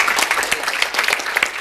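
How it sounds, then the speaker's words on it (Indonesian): Members of a church congregation clap together during a sermon, producing a dense, steady burst of close applause that lasts a moment. "Tepuk tangan dulu"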